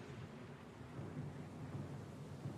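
Stormy weather in the Pillars of Eternity 2: Deadfire video game, a steady low rumble of thunder and rain-like noise rolling continuously at moderate level, with no voices.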